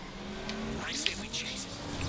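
Small car driving in Transformers: Fall of Cybertron, its engine revving with rising and falling whines and a quick tire squeal, close up and under occasional talk.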